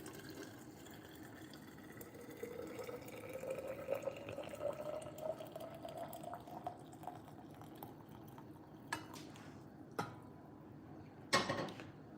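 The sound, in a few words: hot water poured into Iron Flask thermos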